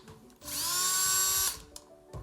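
Power drill with a drill bit boring a hole into a pumpkin, a single loud, high whirring burst of about one second, close up, followed by a few faint handling clicks.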